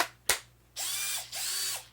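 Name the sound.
power drill running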